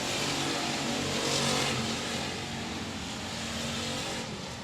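Race cars battle side by side on a dirt speedway during a heat race. Their engines make a dense, loud roar heard from a distance, swelling briefly as they run into the turn.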